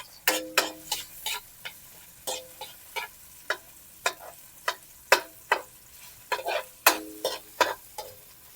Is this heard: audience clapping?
no